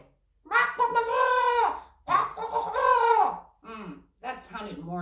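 Children's voices imitate a hen clucking, producing several drawn-out, wavering calls in a row, close and fairly loud, with short gaps between them.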